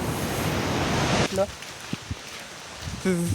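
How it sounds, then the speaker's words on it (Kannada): The Unchalli waterfall on the Aghanashini river roars as a dense, steady rush for over a second, then fades back as voices talk nearby. "ಉಂಚಳಿ ಫಾಲ್ಸ್ ನೋಡಿ ಗೈಸ್"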